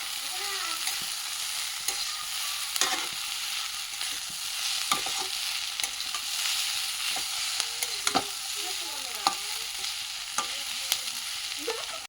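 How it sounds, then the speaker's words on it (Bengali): Egg sizzles steadily in a hot pan as it sets into an omelette, with a constant crackling hiss broken by occasional sharp clicks and scrapes of stirring, close up and with no voices. "এইবারে ডিমটা দিয়ে আমলেট হয়ে যাচ্ছে।"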